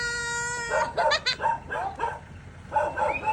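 A dog barks several times in quick bursts, close by, with a high whining tone at the start and a few more barks after a short pause.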